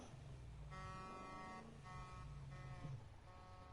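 Several loud car horn honks sound in Need for Speed Heat, three or four blasts in quick succession over a steady engine rumble.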